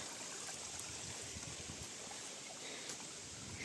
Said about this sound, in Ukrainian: Тут теж ось струмок у нас річечка.